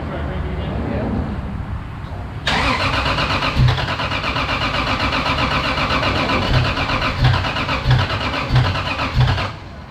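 A Toyota Supra engine cranks over and over without firing, its starter churning in a loud, rhythmic grind that kicks in suddenly after a couple of seconds of quieter garage sound, while people talk nearby.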